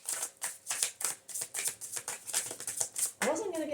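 Tarot cards are shuffled by hand close by, giving quick rhythmic riffling bursts, with a brief voice at the end.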